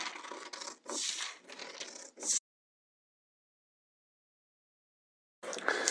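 Paper waistband pattern cut with scissors, in close, crisp snipping and rustling bursts, then a long silent gap before another short burst of cutting.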